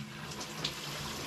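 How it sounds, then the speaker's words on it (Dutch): A home shower runs in a steady, soft hiss of falling water with a few faint splashes, heard close but quietly. "iets harder en nu koud water"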